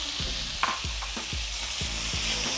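Tomatoes going into a pan with sweated garlic and red pepper flakes, a steady close sizzle broken by a series of soft clacks and stirs at an even pace.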